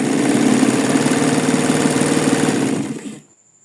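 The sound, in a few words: sewing machine stitching raw fabric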